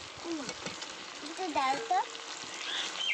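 Fried potatoes go into a pan of chicken curry made with country chicken, a soft hissing sizzle that keeps on steadily under a person talking.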